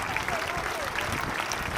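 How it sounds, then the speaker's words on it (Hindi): Audience applause at a school annual day celebration, a steady dense clapping from a crowd, somewhat distant and moderate in level, with a faint voice underneath. "एक बार तालियां बजा करके बताइए कार्यक्रम शुरू कर ले"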